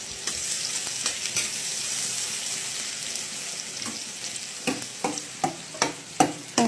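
Onion frying in a pan with chillies, a steady broadband sizzle throughout, with a series of louder clattering stirs and scrapes toward the end, close and clear with no talking.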